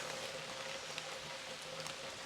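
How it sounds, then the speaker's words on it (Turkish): Heavy rain pours steadily around a caravan with a balcony, a dense continuous hiss of drops striking surfaces, fairly quiet and uninterrupted, with no voices. "Nasıl bastırdı yağmur?"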